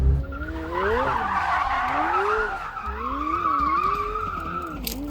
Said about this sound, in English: always spin a McLaren